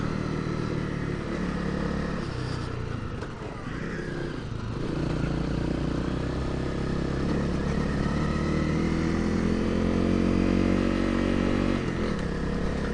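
A 250L dual-sport dirt bike is ridden hard on Idaho trails, its engine droning loud and close throughout and rising and falling in revs as it is wrung out, with no talking.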